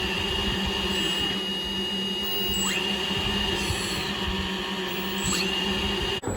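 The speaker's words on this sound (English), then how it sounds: "Dry test of the new propellers." Small new boat propellers with more aggressive pitch and slightly smaller diameter spin on their electric motors in a dry test, a steady whirring motor drone with high tonal whine, running continuously at close range with no talk.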